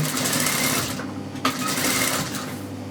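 A sewing machine stitches around bias-cut piping placed underneath the fabric, with a steady, close, continuous whirring hum that runs the whole time and no talking.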